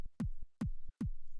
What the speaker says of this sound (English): We could cheat and put the kick attack sample on it